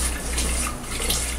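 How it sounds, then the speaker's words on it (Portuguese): Water is poured into a kitchen blender jar before making fresh watermelon juice, a steady close splashing gush that runs without a break. "E no liquidificador, gente, eu vou preparar um suco de melancia natural. Então, eu vou colocar água."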